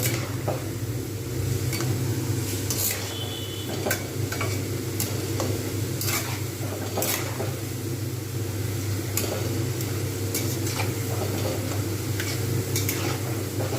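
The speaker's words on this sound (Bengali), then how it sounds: "এটা ধীরে ধীরে নেড়ে নেড়ে এপিট ওপিট করে করে ভেজে নিতে হবে" Thin potato slices for crispy fried potatoes sizzle steadily in hot oil, with a utensil stirring and scraping the pan in irregular clinks and taps throughout, close and continuous, with no talking.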